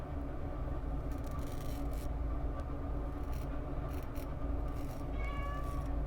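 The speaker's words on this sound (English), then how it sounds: "Safety Cat Jr. is here." Noelle, a pet cat, meows indoors, pleading to get up to a window. Her drawn-out calls rise over a constant low mechanical hum, with a clear, close meow near the end.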